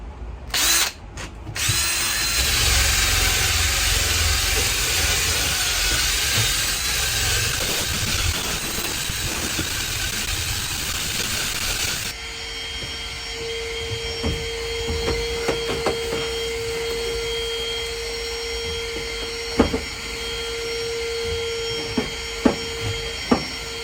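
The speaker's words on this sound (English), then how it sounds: "Try and dislodge as much of this dust as I can and vacuum it up." A loud vacuum runs continuously while a wire drill dislodges dust from electrical equipment, then the vacuum cuts and leaves a quieter hum with scattered clicks and knocks.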